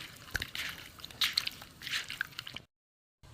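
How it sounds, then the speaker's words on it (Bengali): Hands rub salt and turmeric into cut pieces of lote fish, soft wet squishing and squelching strokes up close, fairly faint, then stopping into silence. "এখানে নুন আর হলুদ মেখে নেব।"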